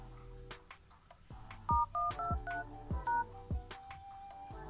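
Phone keypad DTMF tones dial a mobile balance-check code, a quick series of about eight short, clear beeps in an uneven rhythm, with soft tapping between them and no talking.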